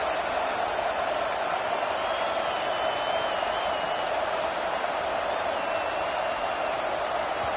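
Stadium crowd in a college football video game, a dense continuous roar of cheering at steady high level that fills the whole stretch, with a faint whistle-like tone drifting through it and no speech.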